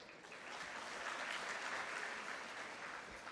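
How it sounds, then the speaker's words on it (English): Audience applause at a chartered accountants' convocation ceremony in Mumbai, a steady wash of many hands clapping at moderate distance, fairly quiet and even throughout, with no voices over it. "So huge round of applause to them also"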